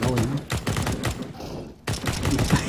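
Rapid bursts of automatic gunfire from Counter-Strike: Global Offensive, loud and dense, with a short quiet gap before the shooting resumes.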